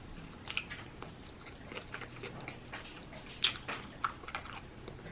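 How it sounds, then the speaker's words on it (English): A fried chicken sandwich with sauce is bitten and chewed close up, with soft crunches and moist chewing sounds, quiet apart from a few sharper bites. "I got the sandwich with the sauce, and let's bite."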